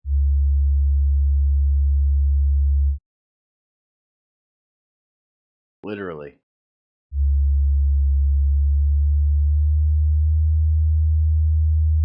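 A low, steady test tone drones, cuts out for several seconds while a voice speaks briefly, then resumes at the same pitch.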